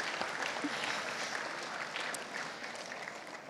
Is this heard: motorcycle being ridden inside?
no